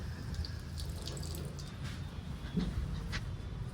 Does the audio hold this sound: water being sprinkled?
yes